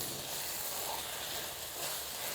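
Chicken mince frying in a pan gives a steady, broad sizzling hiss that holds at an even level throughout, close and continuous, with no voices over it.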